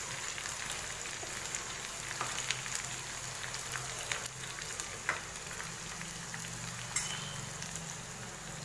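Chopped onions frying in a pan for a white pumpkin curry, a steady dense sizzle with scattered crackles and a few sharper pops, close and continuous throughout.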